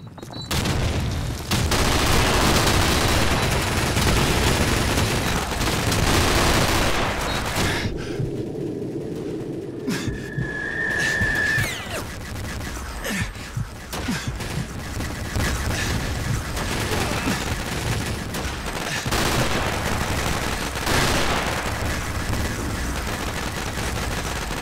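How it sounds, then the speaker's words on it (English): Sustained suppressing gunfire in Call of Duty 2, Freeze Tag mode: dense, loud bursts of rifle and machine-gun shots with booms, easing briefly in the middle before the firing resumes. "Suppressing fire!"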